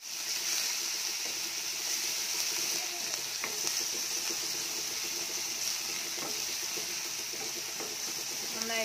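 Crushed garlic and medium-sized ginger sizzle steadily in hot oil in a pan for an egg biryani, a constant bright frying hiss with faint stirring clinks throughout.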